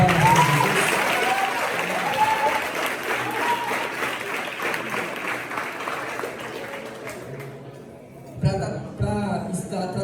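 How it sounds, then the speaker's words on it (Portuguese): At a youth mission church service, a congregation gives a powerful round of applause for Jesus, a sustained dense clapping wash with cheers that gradually fades, before a preacher's voice takes over in the final seconds. "dá uma poderosa salva de palmas para Jesus"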